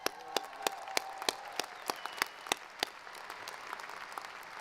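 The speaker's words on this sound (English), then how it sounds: "Let's applaud that." A small audience at the 2019 University of Idaho spring commencement gives a sparse round of applause, with distinct individual claps standing out over a softer spread of clapping that fades after a few seconds.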